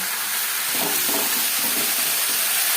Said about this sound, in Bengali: পেঁয়াজের সাথে চিকেন বেশ ভালো করে মিক্স করে দেবো